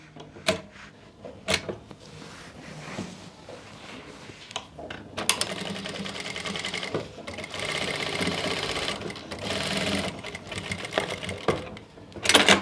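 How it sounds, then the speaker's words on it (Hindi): Sewing machine stitching along the front neckline of an Anarkali kurti, starting with a few short bursts and separate clicks, then running in longer steady rattling runs, close and fairly loud, with no talking. "बाहर से हमें सिलाई लगानी स्टार्ट करनी है।"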